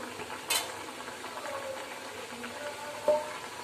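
Chakli spiral snacks deep-frying one at a time in hot oil, a faint, steady bubbling fizz with a couple of sharper splashes or clinks standing out, quiet and close.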